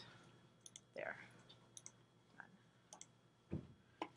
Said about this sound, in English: so I'm typing this, Carol, so you can see.